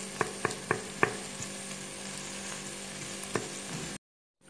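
Fresh tomato pieces stirred and crushed with a ladle in a pan of Ivorian tomato sauce, under a steady close sizzle with several light metallic clicks early on and one more near the end before a sudden cutoff.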